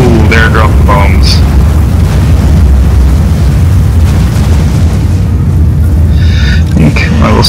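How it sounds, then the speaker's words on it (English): Bombs dropped by gyrocopters explode in a Total War Warhammer battle at Valaya's Gate, a loud sustained booming rumble under dense battle noise, with a few brief higher bursts and a voice talking over it. "Ooh, they're dropping bombs."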